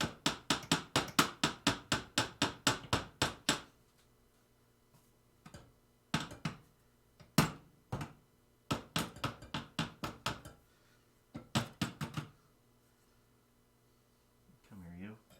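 A hammer strikes a screwdriver to tap a nail, with quick runs of sharp close knocks in bursts and pauses, and a voice speaking briefly near the end.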